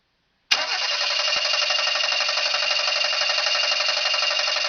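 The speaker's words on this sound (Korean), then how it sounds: "자, 크랭킹 해주세요." A car engine cranks on the starter during a starter voltage drop test, a loud, steady whirring drone starting abruptly and continuing unbroken without firing, close and with no talk.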